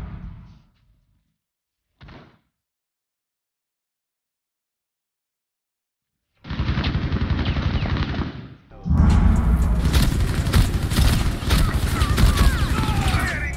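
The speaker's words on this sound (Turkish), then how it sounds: "Görmüş olduğunuz gibi 4 tane rakibi tutturduk ama neredeyse hiç hasar vurmayan bir pompalı tüfek" Gunfire from a shotgun in Rainbow Six Siege: after a short thud and silence, loud sustained bursts of shots erupt and continue, heavy and close, mixed with in-game clatter.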